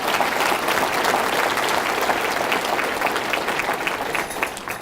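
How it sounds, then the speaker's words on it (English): An audience at a State of the County address gives a loud, dense round of applause, continuous clapping filling the whole few seconds and fading slightly toward the end. "So let's give him a round of applause."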